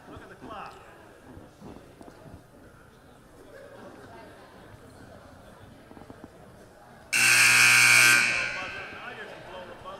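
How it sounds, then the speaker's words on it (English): A loud basketball game-clock buzzer blares for about a second, cutting sharply over crowd chatter and an announcer at a Wildwood Catholic vs Cherokee high school game, then the gym noise carries on beneath it. "Now you can blow the buzzer."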